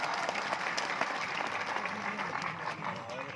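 Loud, dense applause from an audience at a devotional Katha gathering in Depalpur, Indore, steady clapping filling the space for several seconds with crowd noise throughout.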